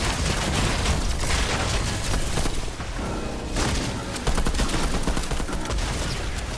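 Dense video game gunfire with rapid bursts and heavy shots in a mech-heavy shooter match, loud and continuous throughout with no break.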